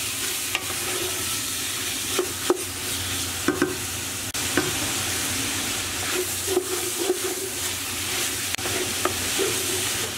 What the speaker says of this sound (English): cook this together until our onions have softened and our lamb has browned all over